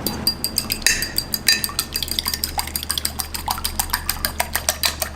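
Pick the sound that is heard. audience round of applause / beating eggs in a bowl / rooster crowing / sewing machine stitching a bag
beating eggs in a bowl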